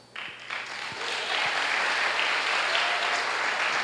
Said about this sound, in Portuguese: Eu queria ouvir um aplauso ao Senhor.